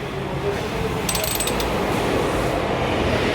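A ratchet drill on a 15-inch offset boring through rebar makes a continuous, close grinding and scraping, with brief metallic clicking from the ratchet partway through.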